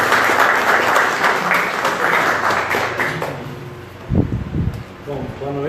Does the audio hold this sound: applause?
yes